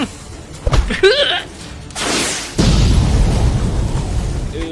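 Rocket launcher blasts in Roblox: a sharp burst near the start, then a loud whooshing blast and a sustained roaring boom that fills the rest, with a brief voice early on.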